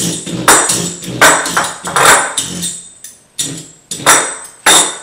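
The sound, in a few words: pricking rolled-out tart dough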